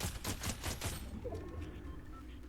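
Rapid bursts of video game gunfire crackle in quick succession for about a second, then fade into a busy background of lingering ambient game noise.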